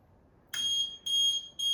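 Three loud, high-pitched electronic alarm beeps from a water leak detector repeat at a steady pace, each a sustained shrill tone with short gaps between.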